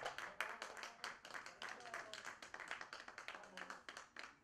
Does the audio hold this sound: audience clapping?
yes